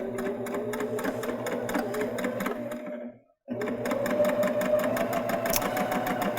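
Baby Lock Jazz II sewing machine stitching chiffon fabric, a rapid mechanical chatter close by that stops briefly for a moment, then resumes at the same busy pace.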